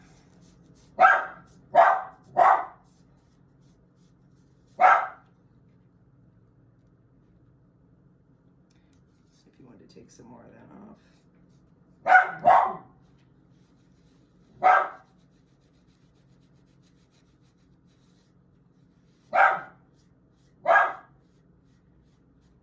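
A dog barks in short bursts, a quick cluster of three, then scattered single and double barks, with someone talking briefly in between over a low hum.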